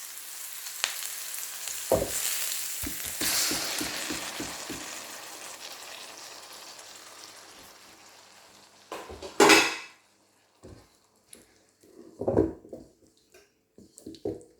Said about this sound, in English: I'm going to add my chopped tomato, 300 grams.